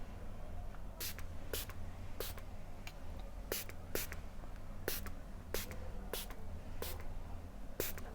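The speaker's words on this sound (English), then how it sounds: "So now I'm taking the Zikel Cosmetics, what's it called now? Sealed Makeup Fixing Spray." Zikel Cosmetics Sealed Makeup Fixing Spray is spritzed about a dozen times in short, sharp hissing bursts at an irregular pace, close and fairly quiet, with no talking.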